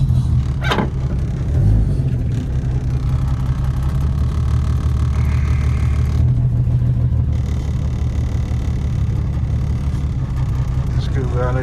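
A 1980 Chrysler Cordoba's engine runs as the car is shifted into reverse, a loud, steady low rumble close by, with brief voices over it.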